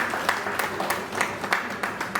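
At an annual literary award ceremony, an audience keeps up steady applause, with some sharper individual claps standing out against the continuous patter.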